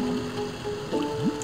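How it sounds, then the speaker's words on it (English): Water splashes from a Chao swimming in the Sonic Chao Garden video game, a few soft splashy bursts over a steady watery game background with a faint tonal music line. "Absolutely smacking that water as they're swimming."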